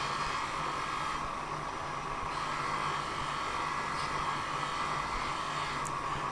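A stitched cotton mop buffing wheel dressed with greaseless sateen abrasive polishes nickel-plated metal from a 1927 motorcycle lamp, giving a steady, loud whirring hiss with a low motor hum that runs unbroken throughout.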